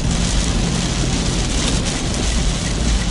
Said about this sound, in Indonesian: Hujan gede, woi.